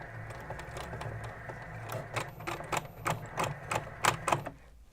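A sewing machine stitches a sleeve seam in short bursts of rapid mechanical clatter that swell and pause, close and fairly quiet, with faint background hum.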